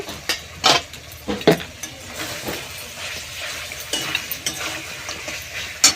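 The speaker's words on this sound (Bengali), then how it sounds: "ঢাকাটা খুলে একটু নেড়ে নেব" Chicken kosha is stirred in a pan as it fries, with a low steady sizzle under sharp, irregular spoon clinks and scrapes against the pan, close by.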